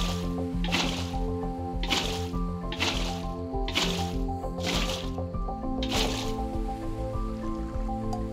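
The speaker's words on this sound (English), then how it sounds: "Flush water." Water gushes and splashes in Minecraft while a field is being flushed, with repeated wet squishing bursts at a steady rhythm over a continuous flowing wash, close and fairly loud.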